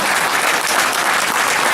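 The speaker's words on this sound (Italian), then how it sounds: "vi ringrazio dell'applauso che evidentemente fa sempre piacere" Dense, steady audience applause fills a political speech by Roberto Formigoni at the Bèrghemeeting, loud and continuous throughout without a break.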